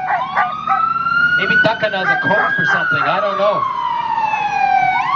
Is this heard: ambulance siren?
yes